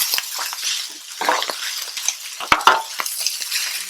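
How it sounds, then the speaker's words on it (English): Shrimp tossed back into vegan-optional fried rice, stirred and scraped in a hot pan with steady sizzling, clinks of a utensil against metal, close and loud with no talking. "And now we're going to add back the shrimp."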